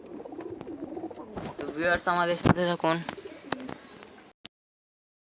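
Domestic pigeons cooing near their cages, soft throaty coos around someone speaking close by, fading to near silence at the end.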